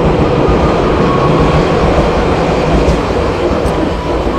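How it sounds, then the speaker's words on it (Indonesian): An airport rail link train in Indonesia rushes past close by, a loud continuous rumble of wheels and carriages that holds steady throughout. "Lintas kereta bandara ya"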